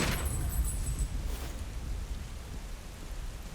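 A grenade goes off in Tomb Raider Underworld with a single loud blast right at the start, then a heavy low rumble that slowly fades away. A second, softer burst follows about a second later.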